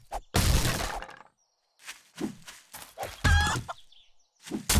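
Chicken clucking in the survival video game 7 Days to Die, a few short squawks and clucks mixed with sharp cracking impacts, loud and close, with pauses between bursts.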